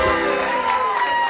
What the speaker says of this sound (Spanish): Un aplauso para la señora Carolina Maidana.